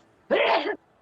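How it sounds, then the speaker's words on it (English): A single short, sharp sneeze bursts out close by in an otherwise quiet room, lasting about half a second. "Bless you, whoever sneezed."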